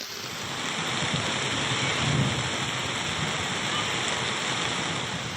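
Heavy rain pours down in Tiruchirappalli, Tamil Nadu, a loud, steady hiss and roar that holds through the whole stretch with no voices.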